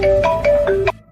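A phone ringtone plays a short, loud melodic phrase of four bright notes over about a second, then cuts off, with no voices.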